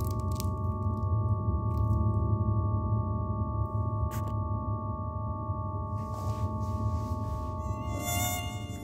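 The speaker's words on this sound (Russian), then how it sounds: "Неужели я сейчас реально дрался с настоящим боевым комаром?" A mosquito whines with a thin, steady high-pitched buzz over constant low background noise, growing brighter and more agitated near the end.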